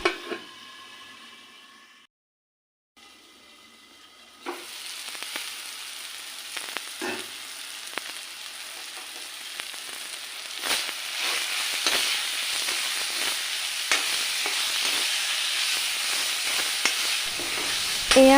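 Banana flower (koldil) fries in a pan with a steady, close sizzle and scattered clicks of stirring. It starts after a brief quiet opening and has no talk.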